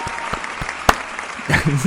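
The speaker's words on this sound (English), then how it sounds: "I'm clapping. I put in a sound effect" A short clapping sound effect of scattered, uneven claps with one sharp loud clap near the middle, followed by a speaking voice.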